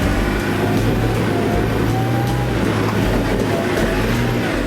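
An off-road vehicle drives over rough hill country at night, its engine a steady, loud, close drone with rumbling road noise and no pauses.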